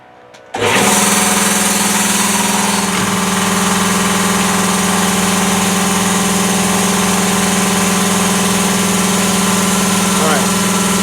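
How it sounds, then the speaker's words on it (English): An air compressor kicks on abruptly and runs steadily with a loud, constant motor drone and hum, unchanging to the end. "I'm going to turn on the air compressor and show you how loud it is"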